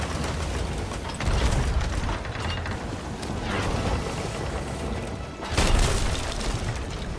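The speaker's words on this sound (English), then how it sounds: "if you hear them shooting, just step away from the cannon and trust that they will be aiming for your cannon line" Cannon fire during a ship battle in the video game Sea of Thieves: heavy booming shots land among steady mechanical clatter and creaking, with two louder blasts standing out near the middle and end.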